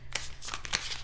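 Tarot cards being shuffled during a daily reading, a quick run of crisp papery riffles and flicks in several bursts, close and fairly quiet with no talking.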